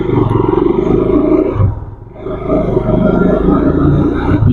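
A high-cc sports motorbike engine revs loudly up close, holding a throaty roar that dips briefly in the middle before surging back up.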